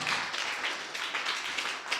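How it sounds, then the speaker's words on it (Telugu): A church congregation claps hands in praise to God, a quick, continuous patter of many hands filling the two seconds at an even, moderately loud level. "గట్టిగా చప్పట్లు కొట్టి దేవుని స్తుతిద్దాం."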